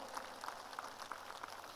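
Church congregation applauding during a sermon at a peace rally, a faint, steady patter of many hands clapping, distant and even, with no talk over it.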